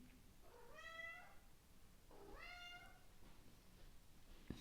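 A cat indoors gives two clear, drawn-out meows a second or so apart, moderately close over a quiet room hum.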